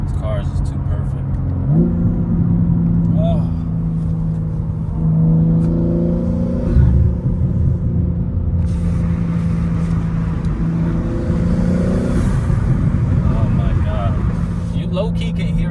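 A BMW G80 M3 with an exhaust valve controller drones and revs from inside the cabin, engine rising and falling with pops and burbles, wind noise and someone talking over it.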